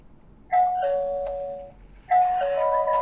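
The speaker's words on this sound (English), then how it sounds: "someone press on the doorbell" A budget wifi doorbell camera chime rings twice, each a bright two-tone melody with clear sustained notes, over a quiet background hiss.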